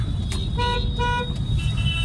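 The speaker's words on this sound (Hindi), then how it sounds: "देखो मेरे हॉर्न को क्या हो गया, देखो" A car horn with a fault gives two short, oddly warbling toots close by, over a steady engine rumble.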